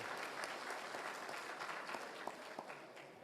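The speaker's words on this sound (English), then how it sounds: "Let's give them a nice round, warm of applause for coming and speaking with us." An audience applauds warmly at a government apology event for a residential school in Île-à-la-Crosse, Saskatchewan, with steady, fairly quiet clapping from a sizable crowd.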